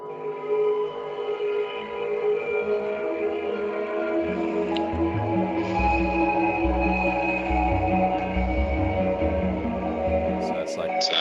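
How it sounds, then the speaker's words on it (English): Rhythmic reverb effect from a hybrid reverb plugin: a dense, sustained wash of tone with pulsing low-end throbs repeating through it, heard loud and alone. "this rhythmic reverb, which is kind of fancy."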